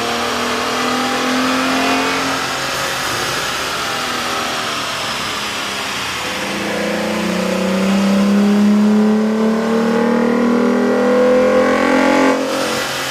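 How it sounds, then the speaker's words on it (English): A car engine revs up steadily under load on a dyno, fitted with a K&N cold air intake, its pitch rising and falling, with an intake whoosh layered over the drone. "we ran the vehicle on the dyno to test the sound comparison versus the stock intake"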